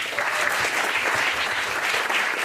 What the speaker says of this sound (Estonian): palun aplaus